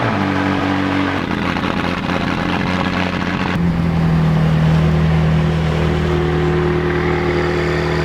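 A McLaren 675LT engine runs loud and close, a steady mechanical drone that shifts pitch partway through and holds without speech.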